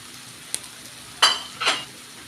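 Minced chicken breast going into a pan of softened onions, giving a couple of sharp sizzling bursts with a faint utensil clink just before, close by in a quiet kitchen.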